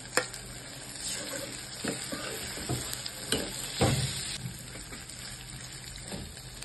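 Chicken curry with garlic-ginger paste fries in a pan, a steady sizzle broken by irregular scraping knocks of a spoon stirring, close and alone without talk.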